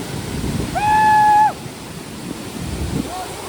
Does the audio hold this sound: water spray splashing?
yes